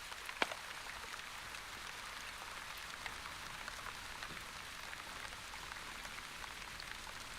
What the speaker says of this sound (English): Light rain. Rain falls upon Envo and raises humidity.